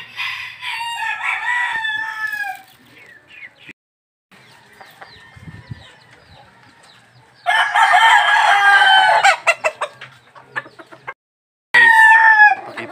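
Pet roosters crow loudly in several long bursts separated by quiet gaps, with chickens clucking softly in between, close by and free of speech.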